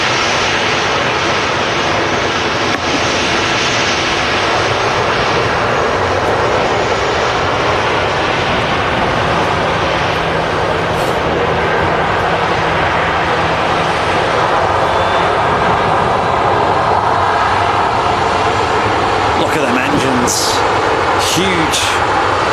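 A Qatar Airways Boeing 777 on approach at Manchester Airport produces a loud, steady jet roar that fills the full stretch, with faint speech-like sounds at the end.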